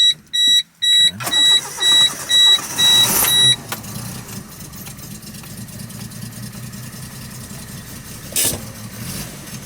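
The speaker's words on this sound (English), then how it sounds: "Do a cold start." A Geo Metro is cold-started on a near-freezing day with the check engine light on: a series of rhythmic starter chimes or cranking pulses, then the small engine catches and settles into a steady, rough idle, loud and close.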